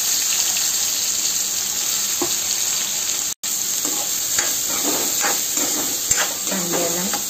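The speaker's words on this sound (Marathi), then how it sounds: "कांद्याला खालवरत करून घ्यायचं।" Chopped onions fry with a steady loud sizzle and hiss in a pan for pav bhaji, with scraping stir sounds throughout and a momentary dropout midway.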